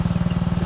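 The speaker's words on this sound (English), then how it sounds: "Here's a cold start of the two-stroke Briggs & Stratton on a John Deere deck." A 1989 four-horsepower two-stroke Briggs & Stratton engine on a John Deere mower deck runs after a cold start, giving a loud, close, steady rapid putter with an even pulsing beat.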